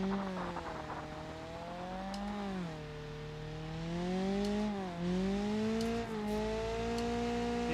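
A car engine in the BeamNG driving game revs high while barely moving, its whining tone climbing and dipping in repeated waves that swell slightly louder toward the end.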